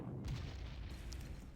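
Artillery fire in the Panzer Corps strategy game during a Greece campaign, heard as a quiet, muffled low boom with a rumbling tail that fades over about a second and a half.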